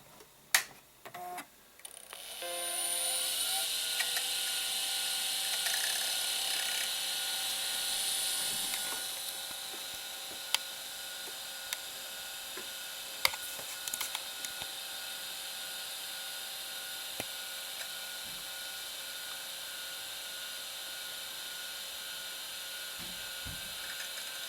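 A Power Macintosh with a SCSI hard drive starts up: a steady whirring hum with a high whine spins up after a few seconds and holds, with scattered faint clicks and ticks from the drive. No one speaks.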